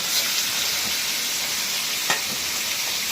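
Rohu fish frying in a pan, a steady close crackling sizzle with occasional sharper spits and pops.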